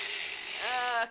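An embroidery machine restarts after a bobbin change with a short, steady mechanical whir. Its tone rises and then cuts off abruptly after about a second, against quiet room noise.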